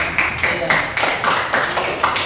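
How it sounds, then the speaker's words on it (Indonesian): Classroom children clapping their hands together in a loose, rhythmic burst of claps at close range, steady for a couple of seconds with chatter mixed in. "Tepuk tangan coba."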